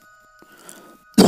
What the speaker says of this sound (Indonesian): Suara batuk dan muntahan si ayah.